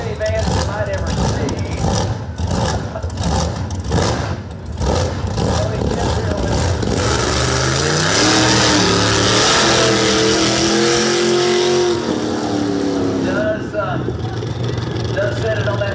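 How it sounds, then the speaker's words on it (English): A wheelstanding minivan roars down a drag strip at a live drag racing event, its engine revving hard and loud through repeated gear pulls before fading, with an announcer talking over it. "he brings out the wheel standard. So one of the coolest minivans you might ever see."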